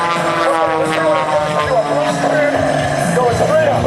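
An aerobatic airplane performs a flat spin and aileron rolls at an air show at the 2008 Joint Services Open House. Its engine drones loudly and steadily, with the pitch rising and falling, under an announcer's talk.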